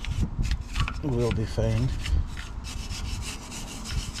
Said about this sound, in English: to give the hub a little bit of a clean, because that's the surface where the wheels will mount to. Just a quick brush